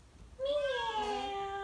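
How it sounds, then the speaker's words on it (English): A single drawn-out cat meow, clear and fairly close, rising then slowly falling in pitch, against a quiet background. "Meow. You like the kitty."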